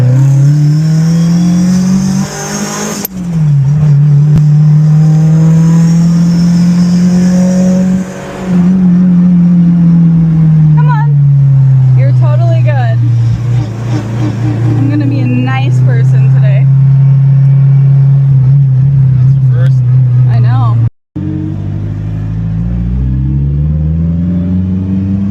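A 700 hp Mitsubishi Lancer Evolution VIII engine drones loud and close under throttle for a long stretch, its pitch swelling and sagging with brief dips, and muffled talk runs underneath.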